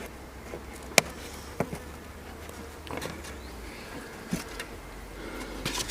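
A low, steady buzz of many honeybees close by at a hive, broken by a few sharp knocks and handling clicks.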